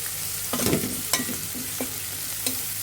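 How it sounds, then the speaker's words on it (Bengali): Peanuts stirred and fried with chopped onion, crushed garlic and ginger in a pan: a steady close sizzle with several distinct scraping stirs of a spoon against the pan, no talking. "চীনাবাদামগুলো ভালোভাবে তুলে পেঁয়াজের সাথে একটু ভাজা ভাজা করে নেব।"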